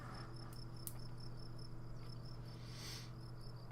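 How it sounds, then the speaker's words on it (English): Crickets chirp continuously in pulsing, evenly spaced trills, high and faint, over a steady low electrical hum with no talking. "Might be crickets."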